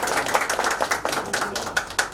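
A crowd claps at Ratan Tata's 85th birthday celebration, a brisk, fairly close patter of hand claps with a few sharper individual claps standing out, running steadily without talk.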